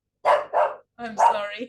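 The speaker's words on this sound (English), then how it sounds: "My dog, he was barking at my neighbor." A small dog barks at a neighbor in a country house setting: two quick yaps, a pause, then a longer whining bark, near and loud, alone without talk.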